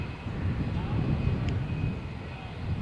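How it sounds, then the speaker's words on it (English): A Lufthansa airliner taxiing for takeoff at Malaga Airport on a stormy morning, a steady distant engine rumble with a faint whine, with a voice talking over it. "So next flight, Lufthansa flight is taxiing"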